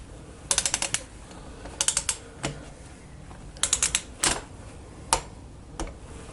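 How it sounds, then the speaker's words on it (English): A click-type torque wrench ratchets on Harley-Davidson Evo cylinder head bolts as they are tightened in sequence, with quick close bursts of ratcheting clicks between short pauses and several sharper single clicks. "Then in sequence, tighten all head bolts to 14 pounds."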